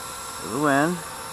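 A Blade 230S V2 RC helicopter whines briefly as its rotor speed rises and falls while it comes in to land at night, a short, fairly faint swell over background hum.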